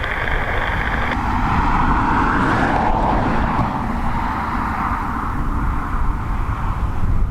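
A jet airliner roars down the north runway at Dublin Airport on its takeoff run, a loud continuous engine rumble that swells and rises in pitch, steady and close throughout.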